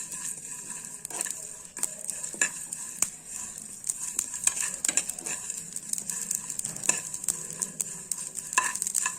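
Fenugreek seeds being roasted brown in a pan for prawn pickle, stirred with frequent sharp scraping and rattling strokes against the metal over a light sizzle.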